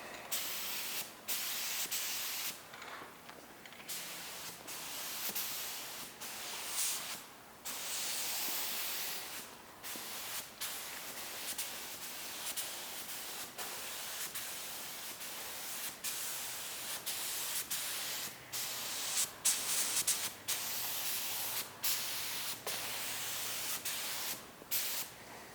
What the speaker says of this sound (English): you can spray the APR, Travis's APR that he's wearing